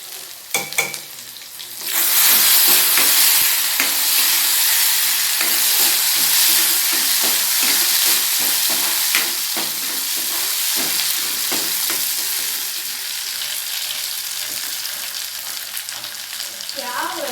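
Onion and tomato sizzle and hiss steadily in a hot pan, a loud continuous fry with occasional stirring scrapes, preceded by a brief quieter moment before the vegetables go in.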